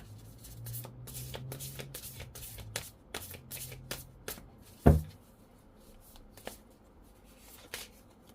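Tarot cards being shuffled by hand for a summary reading, a run of quick papery riffles and soft slaps with one sharper snap midway, close and quiet with no talking.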